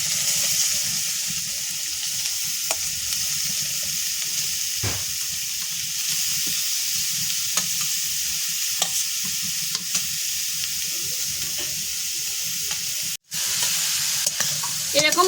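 Grated carrots for carrot halwa frying with cardamom in a pan, a continuous sizzle broken by periodic stirring scrapes and clinks, steady and close, with no talking.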